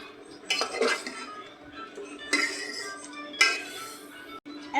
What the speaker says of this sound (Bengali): এখন এটাকে ভালো করে নাড়াচাড়া করছে